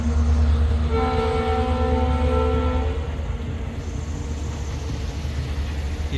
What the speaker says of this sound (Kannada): ರೈಲ್ವೆ ಇಲ್ಲೇ ಪಕ್ಕದಲ್ಲೇ ಹೋಗ್ತಿದೆ ನೋಡಿ